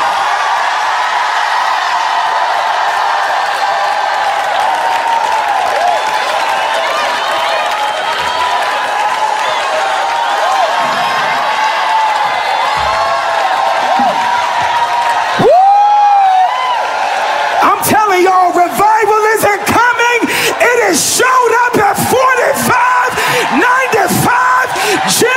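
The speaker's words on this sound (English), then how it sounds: "scream as loud as you can." A church congregation screams, yells and cheers loudly in a long sustained roar of many voices, then breaks into chopped whoops and shouts near the end.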